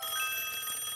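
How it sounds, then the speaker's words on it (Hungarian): A cartoon telephone rings with a bright, steady electronic bell tone that runs unbroken, in a Hungarian-dubbed Pocoyo episode. "Telefon!"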